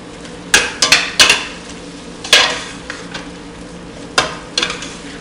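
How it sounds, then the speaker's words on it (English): A utensil scrapes and knocks around a pot as flour is stirred into browned beef, a handful of sharp clunks and scrapes over a faint low sizzle, no speech. "Let's stir this around really well."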